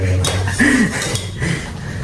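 Dishes and pots clink and clatter as they are handled at home, in a few sharp, bright knocks spread across the moment, with voices talking close by.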